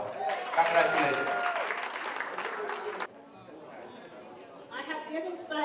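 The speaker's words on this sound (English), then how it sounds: "one more hand of applause for the leadership of Indu Jaiswal" Audience applause and crowd chatter at a gala honoring outstanding women, dense and steady for about three seconds, then cutting off abruptly to quieter murmuring before clapping swells again near the end.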